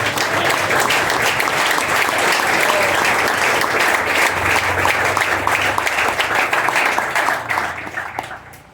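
A church congregation applauding during an evening revival campaign service, loud sustained clapping from a large nearby crowd that holds steady for several seconds before tapering off.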